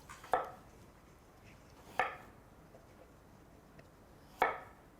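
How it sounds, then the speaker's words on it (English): A knife chops down through fresh turmeric root as its peel is cut away, three sharp, close knocks on a cutting board spaced a couple of seconds apart in a quiet kitchen. "So I'm just cutting away all the peel"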